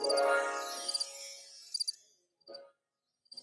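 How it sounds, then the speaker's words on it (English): A cricket chirping sound effect plays from a phone, giving a few short trilling bursts that fade in and out, faint and thin, with gaps of silence between them. "I can hear them on my phone right now. Crickets."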